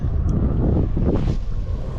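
Gusty wind buffeting the microphone on a fishing boat over sandflats, a brief low rumbling roar with uneven surges and no voices.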